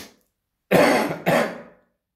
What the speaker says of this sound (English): I have to cough every now and again